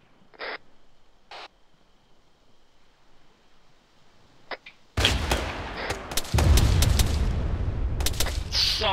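Gunfire in the military game Arma during an ALiVE mission: a couple of faint distant cracks at first, then from about five seconds in a sustained loud barrage of close shots and booms that keeps going to the end.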